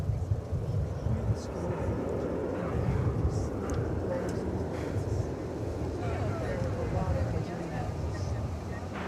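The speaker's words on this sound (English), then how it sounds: "There's an Aero Mexico Connect. I believe that's an Embraer 190." Aeromexico Connect Embraer 190 jet at DFW Airport, a steady broadband engine roar heard from a distance under a person talking throughout.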